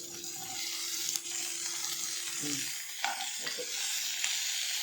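Onions and ripe tomatoes sauté in a pan for chutney, with a steady bright sizzle throughout and a few soft scrapes and knocks of stirring. One brief spoken word is heard.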